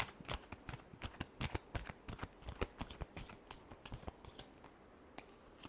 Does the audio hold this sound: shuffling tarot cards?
yes